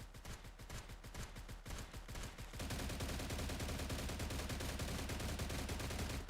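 Gunfire from a gun fitted with a muzzle brake in a video game: first a rhythmic string of separate shots, then a dense, sustained automatic burst that runs steadily to the end, heard loud and close.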